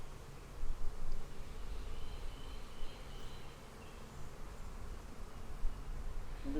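Honey bees working foundation frames inside a Flow Hive make a faint, steady buzzing hum close by, with light rustling and no talking.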